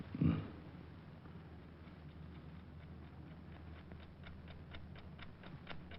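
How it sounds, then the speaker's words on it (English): A steady ticking clock in a quiet room, its regular tick-tock faint and continuing alone after a brief thump at the start. "That clock is going to drive me crazy."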